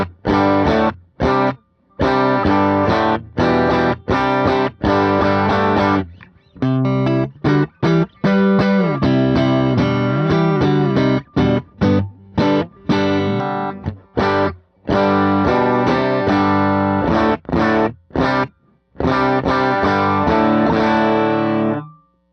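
Electric guitar through two Tonex amp models running together in stereo, loud driven chords and riffs with short gaps and choppy stops, a saturated, effects-heavy tone played alone throughout.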